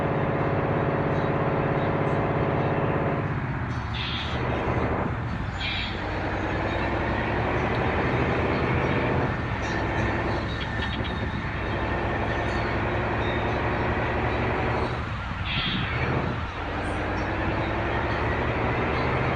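At a railway station, a train rumbles past nearby, a loud, continuous roar with rhythmic clanks and swells of passing wagons that holds steady throughout, with no talking.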